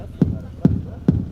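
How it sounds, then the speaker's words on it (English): Three evenly spaced bass drum hits from live-coded PHP music, each a short, punchy low thump, steady and prominent. "okay, we got a nice bass drum."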